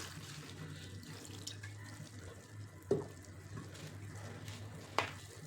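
Puffed rice being rinsed in a bowl of water, with steady running-tap and sloshing sounds, close and moderately quiet, plus a couple of sharper splashes or knocks.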